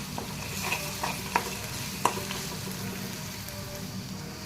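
Garlic paste sizzles gently in a hot pan for lemon rice while being stirred, with a steady low frying hiss and a few soft scraping clicks from the spoon, close and moderately quiet.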